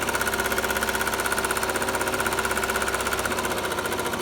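A sewing machine stitches steadily along the seam of a homemade elastic face mask, running in a fast, even mechanical chatter close by for the whole stretch without a pause.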